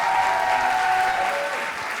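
Studio audience applause for a former contestant at a dating show season finale, a steady dense clapping wash at moderate loudness that eases slightly toward the end.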